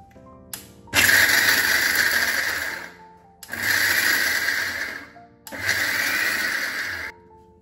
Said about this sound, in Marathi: मिक्सर जो आहे तो आपण कमी जास्त करून चालवायचा आहे